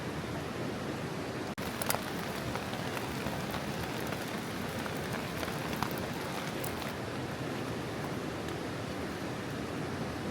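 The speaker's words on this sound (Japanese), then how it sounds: "微妙にまだね、小雨が降ってますね。" Light rain falling on a tarp at a walking solo camp beside a mountain stream, a steady dense hiss of drops and flowing water throughout, with a faint tap or two near the start.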